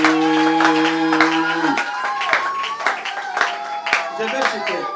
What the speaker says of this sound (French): Tu n'es pas applaudi pour l'Éternel?